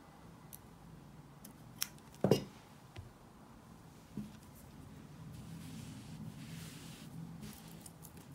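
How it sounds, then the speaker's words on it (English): Scissors snip through beading thread at the base of a Dutch spiral peyote-stitch beaded necklace, giving one sharp, close snip followed by a few softer clicks against a quiet room. "And now here I can go ahead and cut the thread at the very base."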